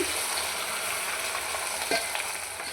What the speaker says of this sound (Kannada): ನುಗ್ಗೆಕಾಯಿ ಚೆನ್ನಾಗಿ ಎಣ್ಣೆಯಲ್ಲಿ ಫ್ರೈ ಆಗಬೇಕು.